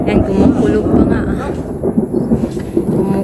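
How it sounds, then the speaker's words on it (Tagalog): Low thunder rumbles steadily across the sky over a rural provincial house construction site, a continuous deep roll mixed with outdoor background noise and occasional voices. "Kumukulog pa nga ang kalangitan."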